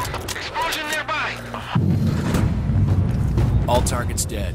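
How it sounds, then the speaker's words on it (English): An explosion goes off partway through a PS5 sniper mission set in Georgia. A deep, rumbling boom follows game voices and a radio-style voice, then keeps rolling as a sustained low roar. "Explosion nearby!"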